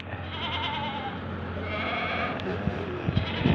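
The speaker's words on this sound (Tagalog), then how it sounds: "Gugutom na sila," Hungry goats kept in a pen bleat in overlapping, moderately loud calls amid a busy background, with a few sharp knocks near the end.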